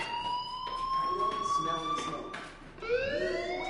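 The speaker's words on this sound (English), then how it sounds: "Hey, do you hear that fire alarm? That means you should be outside." A fire alarm in the video game Life is Strange sounds as a loud rising electronic tone that sweeps upward, breaks off briefly and starts again, with soft voices underneath.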